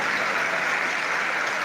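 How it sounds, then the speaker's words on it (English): Steady dense applause from a seated audience at a medical induction ceremony for newly qualified doctors, welcoming a guest professor; a continuous even wash of clapping with no talk over it. "Please, a round of applause to welcome Professor A."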